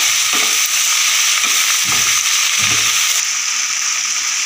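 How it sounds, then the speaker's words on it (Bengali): Sliced sponge gourd and potatoes stir-fried in a pan, a steady loud sizzle of frying with several soft scraping thuds as the vegetables are turned and pressed against the pan. "এরপর ভালোভাবে আলুটার সাথে কষিয়ে নেব খেরোটা।"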